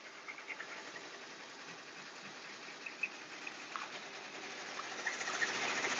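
A sewing machine stitches with green thread in a small Etsy workshop, a fast steady mechanical whir with faint ticking, moderately close and rising slightly in loudness toward the end.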